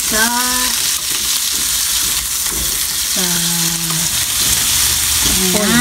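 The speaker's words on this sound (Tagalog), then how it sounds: "Inigisa mo na niya yung giniling" Minced pork sautéing in a pan for a winter melon dish, a loud, steady sizzle close by, with stirring scrapes and a few short tonal squeaks over it.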